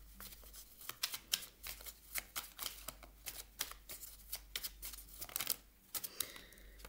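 Oracle cards being shuffled by hand, a quick run of crisp flicking riffles and soft slaps close up, with no voices.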